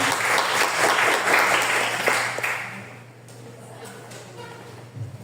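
A church congregation applauds during an evangelical worship service, a dense wash of clapping that is loud for the first few seconds and then thins and fades toward the end.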